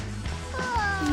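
A cat meows inside the PK XD video game, a short rising, whining tone over game background sounds, moderately loud and clear.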